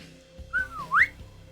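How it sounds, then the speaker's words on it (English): A person gives a short two-note whistle that slides down and then rises sharply, heard clear and near over a quiet background. "And he whistles"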